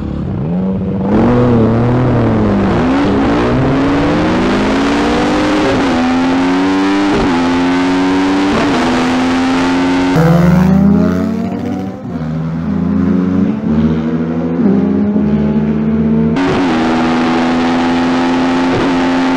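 Car engine revving up through the gears, pitch climbing and dropping with each shift, loud and close, continuous for about twenty seconds at an amateur race meet.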